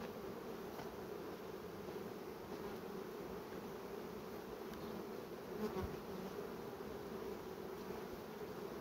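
Honey bees at a beehive with elite queens, making a dense, continuous buzzing drone that holds steady and close throughout, with no voices.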